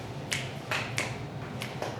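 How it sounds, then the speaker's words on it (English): Finger snaps recorded on a camera's internal mic with the level set to manual: five sharp, moderately loud clicks in an uneven rhythm over a faint low hum, no speech. "when I snap my fingers using the internal mic,"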